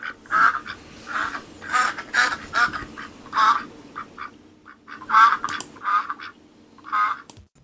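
A duck quacks loudly and close by in a lively series of nasal calls, bursts of two or three quacks separated by brief pauses, with nothing else heard.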